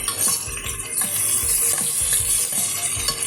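Onions frying in a pan while being stirred, a bright continuous sizzle with rhythmic scraping strokes of the spoon every half second or so, close and loud, no talking.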